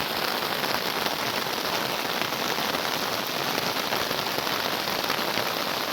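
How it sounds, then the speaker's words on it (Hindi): A muddy village waterfall fed by runoff from the neighbourhood pours down in heavy rain, making a dense, steady rushing hiss with no break. "ये देखें आबशार, ये आबशार है।"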